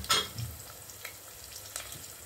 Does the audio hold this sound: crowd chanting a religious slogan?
no